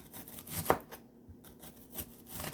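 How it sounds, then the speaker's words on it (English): A knife cuts through onions on a board, making a few separate crisp chops spaced unevenly apart, close and fairly quiet, with a faint rustle between strokes. "Okay, the onions, we're just gonna cut the onions."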